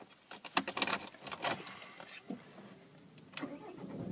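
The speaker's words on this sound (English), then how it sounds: "and just starting the vehicle for you guys" A Ford Focus Zetec car engine cranks and starts, with sharp clicks and jangling near the start, then a brief whirring turnover and a settling idle, heard up close with no talking.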